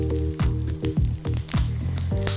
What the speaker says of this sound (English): So while I'm blistering these beautiful peppers